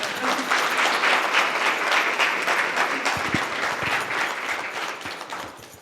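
Steady, dense applause fills a seminar hall for a women's empowerment (Nari Shakti) event in Dhar, continuous and loud before tapering slightly at the end, with no talk over it.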